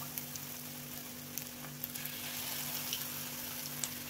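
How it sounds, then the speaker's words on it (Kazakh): Spoonfuls of chive and egg batter fry in a hot oiled pan, giving a soft, steady sizzle with scattered faint pops over a low constant hum, no one speaking. "Тапаға қызған соң үстіне осындай шұңылдау қасықпен бір қасықтан құйып шығасыздар."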